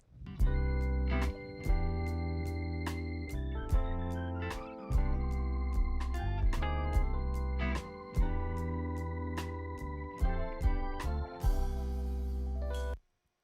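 An electric piano plays a sequence of warm, bell-like chords with clear attacks, each ringing briefly before the next, ending abruptly after a final sustained chord.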